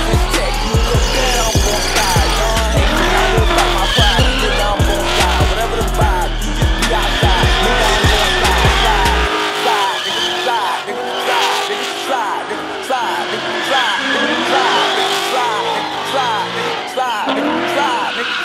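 At a crowded car sideshow in Alabama, a Ford Mustang skids with a loud, continuous engine roar and screeching tire squeal, close by, while spectators shout and talk throughout.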